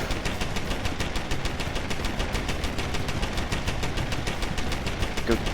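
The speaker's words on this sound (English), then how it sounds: "Turret enters the fray." Rapid, evenly spaced bursts of automatic turret fire in a video game, a loud, continuous mechanical rattle of closely repeated shots running without pause from start to finish.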